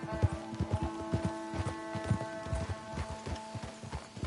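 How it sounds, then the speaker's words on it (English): Horse hooves clip-clop in steady rhythm in Red Dead Redemption 2, several animals walking close by on a path, with a faint bit of talk. "Let's leave the horses off the road to the right here."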